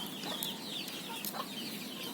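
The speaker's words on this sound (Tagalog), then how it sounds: "Tandang na yun." Chicken sounds in a rural Philippine yard: short clucks and bird calls from a rooster, fairly near, scattered over steady background noise.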